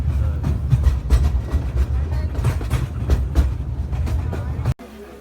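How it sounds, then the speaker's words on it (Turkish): A small tram-like train near Iguazu Falls, Argentina, rumbles steadily along rails with a low, rolling clatter, close by, until it cuts off abruptly near the end. "Tramvay gibi bir şey ya."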